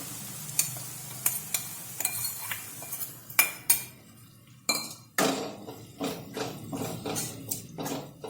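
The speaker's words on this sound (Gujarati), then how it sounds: "તો આપણે જે ડુંગળીને ઝીણી સમારીને લીધી છે તે અંદર એડ કરી દઈશું" Finely chopped onion goes into hot oil with garlic and is sautéed in a pan for Mehsana-style tuver totha: a soft sizzle beneath a series of sharp spoon clinks and scraping stirs against the metal.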